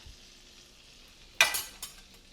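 Butter, minced garlic, red pepper flakes and paprika stirred in a hot pan, with a quiet sizzle and then a sudden scraping stir burst followed by a second shorter one.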